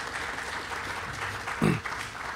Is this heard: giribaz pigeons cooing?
no